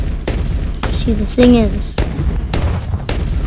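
Sharp cannon booms in the game Bloons TD 6 fire in a loose sequence while someone talks over them, with a whistling sound in between.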